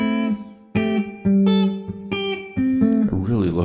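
Sustained synthesizer notes from an Empress Zoia, a few held tones changing pitch in steps, ringing with a springy, splashy spring reverb tail; no talking.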